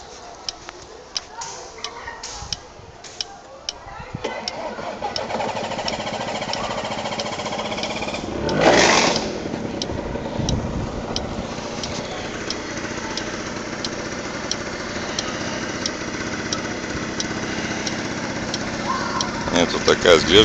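A small motor with a starter cranks over, catches and settles into a steady high-pitched buzzing run that swells briefly midway, with light clicks beforehand and some background noise.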